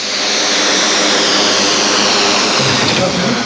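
A military training jet at RAF Valley roars loud and close, a continuous broadband engine blast that holds steady without letup.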